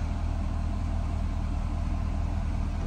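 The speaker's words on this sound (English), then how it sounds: "Here's your exhaust at idle." A 2007 Corvette convertible 3LT idles from its rear exhaust with a steady, dense low rumble, close and continuous, with no voices.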